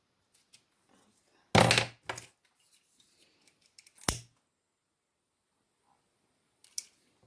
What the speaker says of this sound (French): je vais finir de couper mon ruban